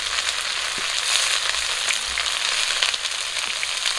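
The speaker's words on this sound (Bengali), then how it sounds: "ধুয়ে রাখা বাঁধাকপিগুলো দিয়ে দিচ্ছি" Washed cabbage frying in a pan with onion and green chilli gives a steady, close hiss and sizzle of hot oil throughout, with a few soft stirring knocks and no voices.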